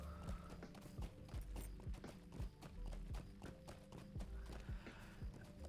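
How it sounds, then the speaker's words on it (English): Horse hooves clip-clop steadily while riding in the Lord of the Rings Online game, an even, close galloping rhythm with occasional whinnies, no talking. "Oh, I'm on my horse."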